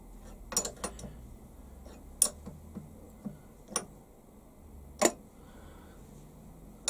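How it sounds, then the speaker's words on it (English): A bolt being screwed into a hand-made part in a home shed, heard as a handful of sharp, separate metallic ticks and clicks at uneven intervals, close by and fairly quiet, with no voices. "Let me just screw that into there."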